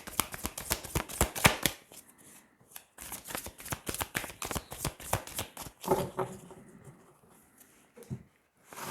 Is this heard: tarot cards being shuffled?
yes